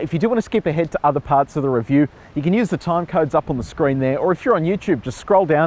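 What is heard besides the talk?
No everyday noise stands out behind the speech.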